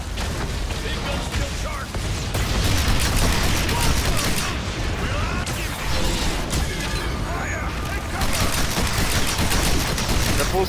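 Gunfire aimed at targets in the video game Evolve: dense bursts of rapid shots with mechanical clatter, loud and continuous throughout, with a voice talking over it at times.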